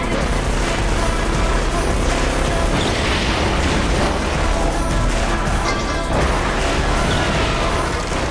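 Off-road raid cars in The Crew slam into a fleeing target car, a dense, continuous wall of loud crashes, metallic smashes and booming impacts layered over roaring engines with no letup.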